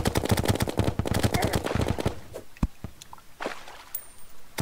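Terraria gunfire bursts out in rapid, loud machine-gun-like volleys for about two seconds, then thins to a few scattered single shots with a high tone near the end.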